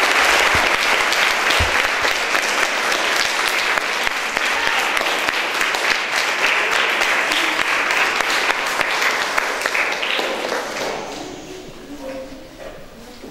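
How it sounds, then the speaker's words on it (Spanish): A school audience gives a visiting guest from the Ranquel community a steady, dense welcoming applause that goes on for about ten seconds, then fades into scattered claps and quiet murmuring. "Le damos un fuerte aplauso de bienvenida"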